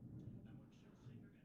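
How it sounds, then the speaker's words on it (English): Thunder rolling during a thunderstorm, a steady low rumble filling the short stretch at moderate loudness, with faint higher crackle above it. "And there's the thunder."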